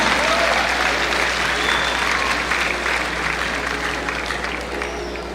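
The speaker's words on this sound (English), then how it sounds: "I invite a round of applause for the candidates for the Associate of Science degrees from the School of Business and Management" A large commencement crowd applauds graduating Associate of Science candidates from a business and management school, dense and sustained clapping that slowly tapers in loudness, with no talk over it.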